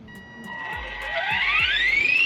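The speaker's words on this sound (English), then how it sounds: "I heard it beep. Did you hear it beep?" An Arrma Typhon RC car gives off a rising electronic tone, steady and fairly loud, climbing in pitch over about two seconds with a faint pulsing underneath.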